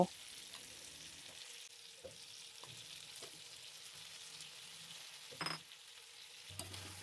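Jujube pickle cooking with salt, turmeric and sugarcane jaggery fries softly in a pan while being stirred: a faint, steady sizzle broken by scattered scrapes and one sharper clatter near the end.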